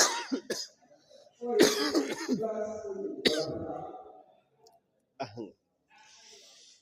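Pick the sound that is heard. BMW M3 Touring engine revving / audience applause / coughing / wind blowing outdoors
coughing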